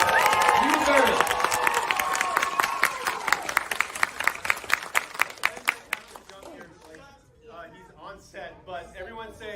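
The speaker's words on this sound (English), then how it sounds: "Give yourselves a round of applause." Audience applause at a film event for a Sonic movie, a loud burst of clapping and cheering that thins into separate claps and fades out, with a voice speaking in the room afterward.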